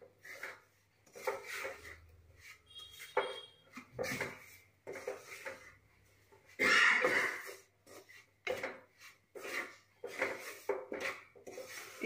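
Wheat flour roasting in a pan for halwa is stirred with a spoon in repeated scraping, rubbing strokes, quiet and close, coming in irregular bursts with pauses between them.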